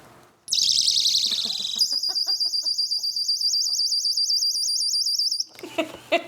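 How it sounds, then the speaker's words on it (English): A handheld personal safety alarm shrieks loud and close, a piercing warbling siren that cuts off abruptly after several seconds, with a puppy's faint scuffling around it. "It's a personal safety alarm"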